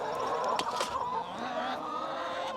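Chickens cluck softly at feeding time in a farm pen, with a mix of overlapping low clucks and murmurs close by. Faint handling noises sit in the background and no one speaks.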